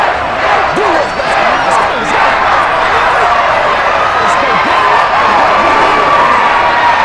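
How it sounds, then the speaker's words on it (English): A large football stadium crowd in the Madden NFL 23 video game roars and cheers continuously at high volume, a dense wash of voices and shouting that fills the whole stretch without pause. "How about some applause for the defense there?"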